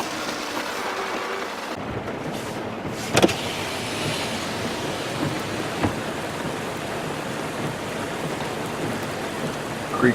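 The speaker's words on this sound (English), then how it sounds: "It's been raining about 5 days straight here." Rain falling steadily on a car after days of downpour, a continuous hiss and patter heard from inside, with a few sharper knocks and clunks breaking through.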